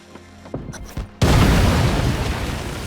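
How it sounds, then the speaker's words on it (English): In the game New World, a few clicks and thuds lead into a single heavy cannon blast that booms loudly and rolls on as a sustained, crackling roar, with no talking. "Fire the nearby cannon to sink the ship."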